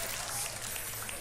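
Brief burst of audience applause, dense clapping filling the moment, with a voice talking over it.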